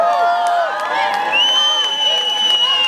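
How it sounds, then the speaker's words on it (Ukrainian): An outdoor crowd at a town day celebration in Irshava cheers and whoops, with sustained high shouts and whistles layered over light clapping, loud and close throughout. "Ще гучніші оплески"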